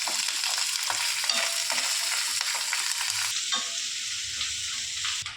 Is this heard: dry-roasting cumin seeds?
yes